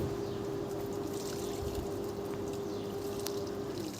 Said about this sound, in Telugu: వాటర్ అయితే వేసేసుకుంటున్నాను అనమాట